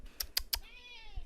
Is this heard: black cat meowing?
yes